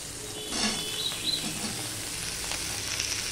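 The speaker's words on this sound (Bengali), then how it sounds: "এবার আলু, পেঁয়াজ, লঙ্কা সবগুলো আমি ভাজতে থাকবো।" Potatoes, onions and green chillies fry together in a pan with five-spice, giving a close, continuous crackling sizzle with a few soft stirring scrapes and no speech.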